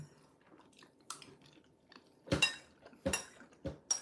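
A young child chews food close to the microphone during a meal of curry and kiwi, giving soft, wet mouth noises with a few sharper crunchy bursts and faint clinks of cutlery or dishes.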